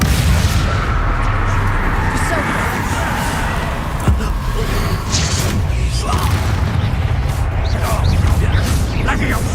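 Repeated Confringo fire-blast spells in Hogwarts Legacy, with booming explosive impacts layered over dense, noisy combat sounds and a voice talking throughout.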